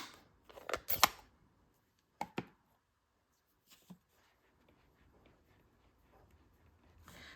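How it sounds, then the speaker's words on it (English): Scissors trim the edge of a stamped paper card, a few crisp snips in quick bursts, then a couple more cuts and soft paper rustling in a quiet room. "So we're going to trim that part off."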